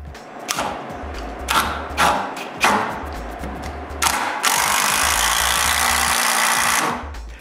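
An impact driver sets screws through a door hinge into an interior door, several short loud bursts in a row and then one longer sustained run, close by.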